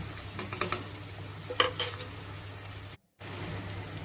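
Onion, tomato and salt being stirred together in a pan for a spicy bitter gourd (karela) curry, a few soft spoon scrapes and light sizzling early on, then quiet steady background with a brief dropout.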